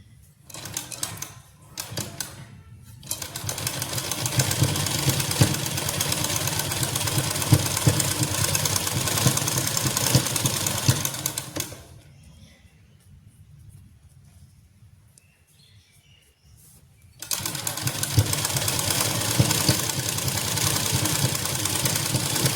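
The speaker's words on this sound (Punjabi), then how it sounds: "ਇਦਾਂ ਸਲਾਈ ਲਾ ਦੇਣੀ ਜੀ ਇਹਦੇ ਉੱਪਰ" A sewing machine stitches lace onto cloth in long steady mechanical runs, clattering loudly for about ten seconds, pausing to near quiet, then starting up again; no voices are heard.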